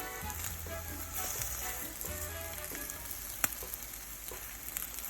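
Keto French toast sticks fry and brown in a pan with a soft, even sizzle under low hum, one sharp click of a turn partway through.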